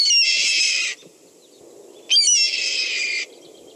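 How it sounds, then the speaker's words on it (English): Red-tailed hawk gives two loud, raspy, descending screams, each about a second long, separated by a short pause with faint background noise. "Here is the red-tailed hawk call."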